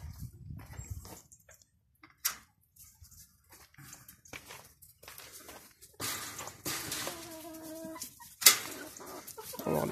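Hens on a farm cluck and call near their coop, scattered soft clucks early on building to a louder cluster of harmonic calls in the second half, with no talking.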